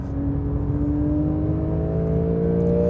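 An all-new Porsche 911 Carrera accelerates hard on a race track, its engine holding a steady, loud, close-up drone whose pitch climbs gradually as it pulls through the gear, with no talking.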